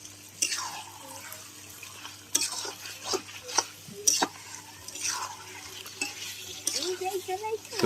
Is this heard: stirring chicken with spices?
yes